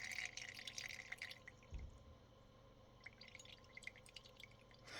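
Liquid drips and trickles faintly as it is poured off during homemade butter making, a quiet splash near the start and soft dripping afterward.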